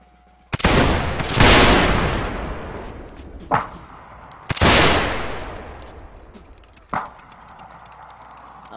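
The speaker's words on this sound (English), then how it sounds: "Open fire from here." Gunfire in the video game Mount & Blade North and South: two loud, sharp shots with long echoing tails ring out up close, and fainter distant cracks follow between them.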